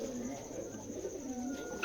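Pigeons of both local and foreign breeds at a pigeon farm in Jessore, cooing in low, soft, rolling calls that carry steadily through the short moment.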